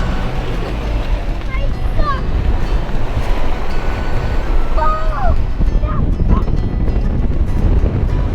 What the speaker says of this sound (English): It's a nice day, but it's very, very windy.